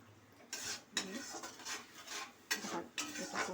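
Spice paste and sugar being stir-fried in a pan, a utensil scraping and clinking against the metal in repeated uneven strokes, close and moderately loud.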